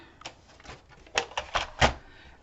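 Paper cutting for an accordion album, heard as a short series of crisp snips and rustles, several separate cuts clustering toward the end, close and fairly quiet, without speech.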